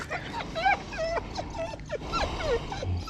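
A female dog whimpers and whines in a string of short, high, wavering cries, close by, with brief pauses between them.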